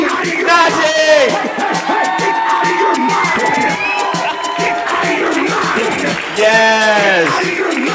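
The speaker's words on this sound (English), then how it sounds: "Big round of applause for Nati" A crowd at a bat mitzvah celebration cheers loudly, with whoops, shouts and excited voices blending into a close, lively roar that surges near the end.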